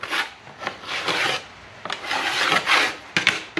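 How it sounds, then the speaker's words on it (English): A double-edged deburring tool rasps along an edge in short, repeated strokes, each pass a bright scraping burst with brief pauses between, close and clear with no talking. "this tool I'm using is a double-edged deburring tool"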